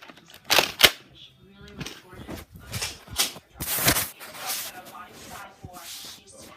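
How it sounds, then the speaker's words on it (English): Nerf blaster shots in a Nerf war: several sharp snapping pops spread irregularly, close and loud, with people talking between and over them. "He is about to shoot me, and I just shot him."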